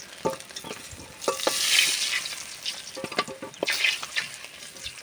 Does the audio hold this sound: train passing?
no